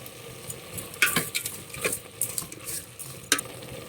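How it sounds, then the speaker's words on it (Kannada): Mushrooms fry in a pan for a village-style mushroom sambar. A soft, steady sizzle runs under it while a spoon stirs and scrapes against the pan in irregular knocks and clatters, all heard close up. "ಈ ಅಣಬೆ ಇವಾಗ ಒಂದು 5 ನಿಮಿಷ ಚೆನ್ನಾಗಿ ಫ್ರೈ ಆಗಲಿ."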